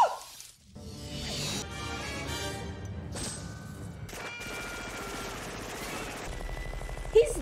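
Heavy machine gun fire from the 1987 action film Predator tears through a jungle scene, dense and sustained with crashing debris, mixed under film score and effects, with a brief sharp burst near the end.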